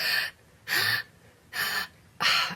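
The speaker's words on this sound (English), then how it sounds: "you can hear all of the breaths I took" Four sharp, breathy inhalations taken between sung phrases sound close to the microphone, evenly spaced with quiet gaps between them.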